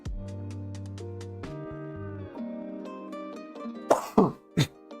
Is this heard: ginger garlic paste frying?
no